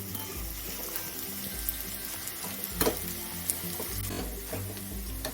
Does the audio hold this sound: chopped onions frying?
yes